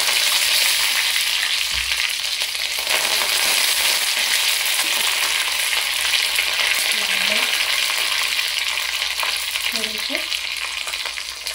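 Mustard seeds, split mustard dal and curry leaves sizzle loudly and steadily in hot oil for a Mumbai street-style dosa filling, with a continuous close crackle and a brief spoken word.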